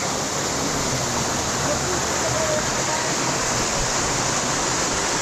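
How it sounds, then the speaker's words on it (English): Steady, dense roar of a waterfall in Jamaica, broadband and continuous throughout, close and loud with no breaks, heard from right underneath the falling water. "I'm gonna go right underneath the waterfall now and get my little natural massage."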